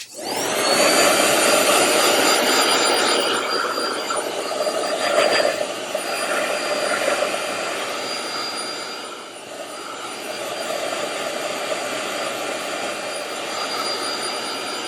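Heat tool drying a layer of a gel plate print, a steady loud whirring blower drone running throughout with slight shifts in pitch as it moves, with no talking.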